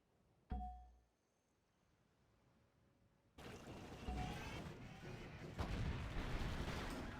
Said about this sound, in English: Come on, artillery fire.